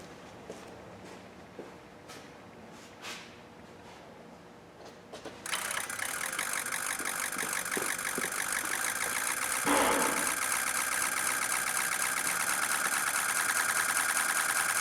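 A 2004 Ford F-350 6.0L diesel pickup engine with a rough-running fault cranks and catches, then settles into a loud, steady clattering idle that runs on without pause.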